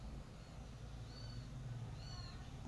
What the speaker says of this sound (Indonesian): Maaf, ada suara anak kucing ya.